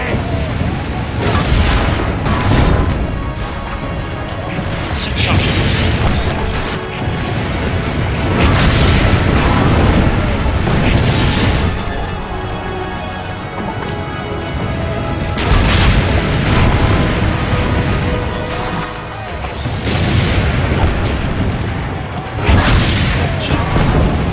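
Heavy booming cannon blasts go off again and again over a steady rumbling roar, loud and close, in a battle in the video game Assassin's Creed Brotherhood.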